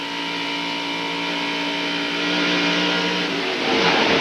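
A stock car's engine held at full throttle in the 1999 NBS Touchstone Energy 300 race, a loud continuous buzzing drone that holds steady and then rises and shifts in pitch toward the end, with no talk.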